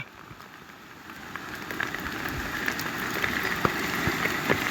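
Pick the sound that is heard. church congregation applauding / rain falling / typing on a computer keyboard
rain falling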